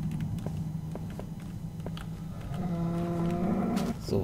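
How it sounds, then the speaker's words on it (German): A cow in Minecraft lets out a loud, close, drawn-out moo after soft footsteps, with the call swelling in the last couple of seconds. "Boah, die Kuh hat mich jetzt erschrocken."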